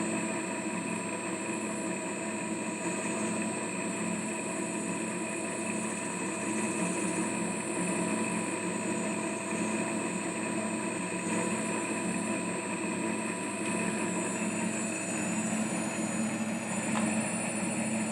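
A prototype power take-off generator driven by a motor runs steadily, giving a constant mechanical whine and hum with layered tonal drones, holding at an even level for the whole stretch with no talk.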